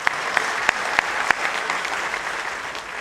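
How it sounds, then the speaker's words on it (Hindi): Children at a national Sanskrit singing competition burst into loud applause, a few sharp individual claps at first, then merging into a steady crowd clapping that gradually softens. "हाँ, जोरदार ताली से हाँ बोलिए।"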